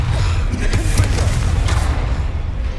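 The Confringo blasting spell going off in Hogwarts Legacy during a spell-heavy duel, with a couple of sharp, fiery bursts over a deep, rumbling low end that holds steady and fairly loud throughout.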